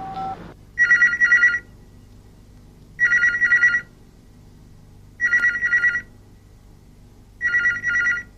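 Telephone ringing unanswered in a 1995 television drama, four evenly spaced double rings of a bell-like electronic tone with quiet pauses between them, near and clear.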